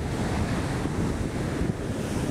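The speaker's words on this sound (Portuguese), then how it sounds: "E o mar hoje também está meio revolto por causa da água, por causa da chuva" Rough sea waves crash on a rocky shore on a rainy day along a coastline, a dense, steady roar of surf mixed with wind buffeting the microphone, no talk.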